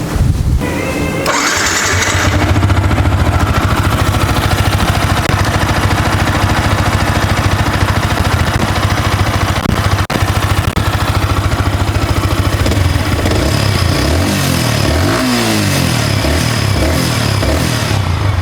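A Yamaha R15 V3 motorcycle with about 6,900 on the odometer starts up and settles into a steady, loud close-up idle, then gives several rising and falling throttle revs toward the end.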